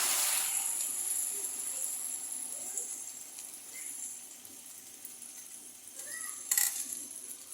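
A bright, steady sizzle of egg frying in hot oil, close and continuous, with a few small pops and crackles toward the end.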